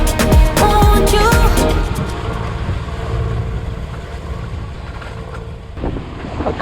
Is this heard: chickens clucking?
no